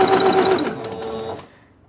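A sewing machine stitches quilt fabric in a brief close run that slows and stops within about a second and a half, leaving near silence.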